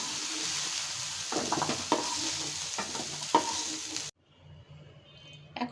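Fried sweet pumpkin being lifted out of a pan, with soft sizzling and a few clattering scrapes of a utensil against the metal, then a sudden drop to quiet with faint clinks near the end.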